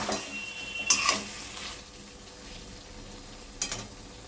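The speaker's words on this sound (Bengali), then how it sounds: "এবার আমি নেড়ে দেবো, ভালো করে নেড়ে দিচ্ছি" Cauliflower poppy seed curry (phulkopi posto) stirred in a pan over a low flame, a few scraping strokes near the start and another near the end over a soft steady sizzle, with no voices.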